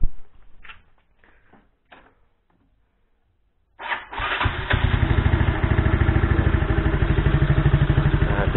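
Yamaha Mio scooter engine starts after brief handling noises, then runs loud and close with a steady revving drone and rapid rhythmic pulsing, no talk.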